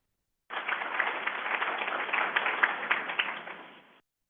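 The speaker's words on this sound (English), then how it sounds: "Round of applause here for all of them." Conference audience at the 2024 SADS International gathering gives a round of applause, a steady, even wash of clapping hands from a seated crowd that starts abruptly and fades out toward the end.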